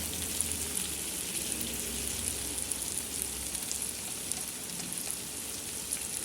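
Onions sautéing with spices in a covered pan for a wheat egg pizza, a steady soft sizzle and crackle running continuously at low volume with no talking.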